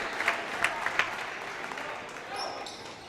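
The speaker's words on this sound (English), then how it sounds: "He gets a round of applause as well" Crowd at a high school boys' basketball game applauds player Nick Doring, moderate clapping with a few sharp claps early, under a commentator's voice, fading slightly near the end.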